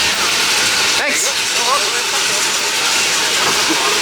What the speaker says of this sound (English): We're legitly on the train.